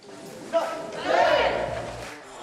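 Short track speed skating team members, arms over shoulders at an ice rink training session, shout a rousing fighting cheer together in one brief loud group burst that swells and fades in the echoing arena.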